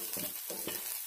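Bitter gourd slices and chana dal frying in hot oil, a steady sizzle with a few stirring scrapes rising and falling over about a second.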